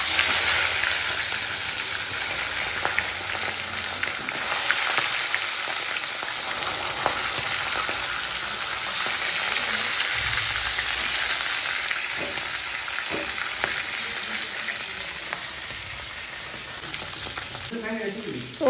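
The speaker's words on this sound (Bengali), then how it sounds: "মাছগুলো আমি ভেজে নেব" Fresh market fish frying in hot oil, a loud, continuous close-up sizzle with faint stirring, holding steady and changing slightly near the end.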